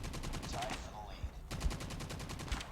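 Rapid automatic bursts from the LK24 rifle in Call of Duty, two close sustained strings of shots separated by a short pause.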